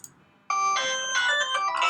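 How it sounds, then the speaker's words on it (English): A phone alarm goes off suddenly and rings on in a bright, repeating electronic melody, loud and close after a brief quiet start. "Sorry, that's my alarm."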